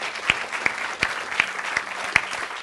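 Sparse, rhythmic applause for the psychic Sabine Urtrel during a radio broadcast: a handful of distinct sharp claps spaced about every third of a second, fairly close, over a low hum with no voices.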